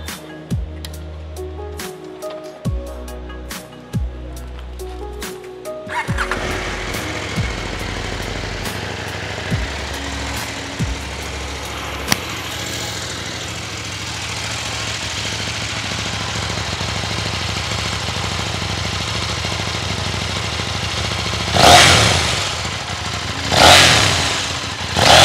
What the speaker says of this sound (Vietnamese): Và bây giờ chúng ta sẽ test thử tiếng bô của chiếc xe.